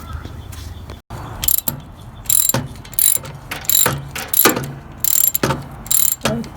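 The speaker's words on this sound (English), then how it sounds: "just loosening the pinch bolt" A ratchet wrench clicks in quick bursts while loosening the power steering pinch bolt on a 1997 Toyota Tercel with a 1.5 L 5E-FE engine, the sharp metallic ratcheting close up and repeated in short runs.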